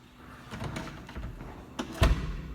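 A door is pulled open with a few soft rattles and scrapes, then a single firmer thud near the end, fairly quiet against background room noise with no talking.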